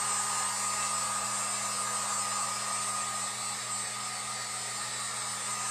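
A Harbor Freight heat gun blows steadily, a constant airy whoosh with a faint motor hum, close and unchanging for the whole stretch, with no talking.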